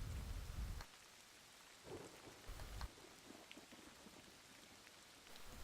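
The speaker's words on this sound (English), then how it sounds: "It's realistic thunder." Distant thunder in a video game rolls in low, soft rumbles, one at the start and another midway, over a faint rain-like hiss, quiet and with no talking.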